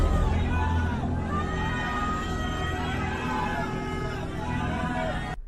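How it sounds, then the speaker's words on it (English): A concert crowd on an Apple Music live stream fills the air with a continuous, loud roar of screaming and shouting voices, dense and unbroken throughout. "You can hear the crowd screaming for help on the Apple Music live stream."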